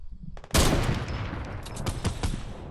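Loud gunfire in the video game Fortnite: a sudden burst of rapid close shots, followed by a few more sharp cracks as the firing tapers off.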